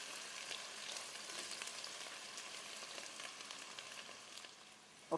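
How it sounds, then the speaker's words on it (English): Vegetables sautéing in palm oil in a pan for njama njama (garden huckleberry), a steady close sizzle and crackle with a soft stir near the end, no talking. "So we're going to saute this for a few minutes until it is fragrant."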